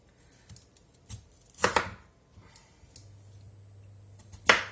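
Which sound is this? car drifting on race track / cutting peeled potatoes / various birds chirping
cutting peeled potatoes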